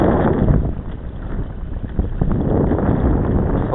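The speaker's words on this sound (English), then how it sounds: "It's windy" Steady cold wind buffets the microphone in a continuous rumbling roar while fishing at Eildon, fairly loud and unbroken for a few seconds.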